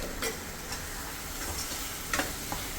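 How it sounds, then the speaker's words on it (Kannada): Chole masala powder frying in a pan for north-style chole, a steady close sizzle with a few light scrapes and ticks of stirring. "ಇದೆಲ್ಲ ಫ್ರೈ ಮಾಡ್ಕೊಳ್ಳೋಣ ಚೆನ್ನಾಗಿ"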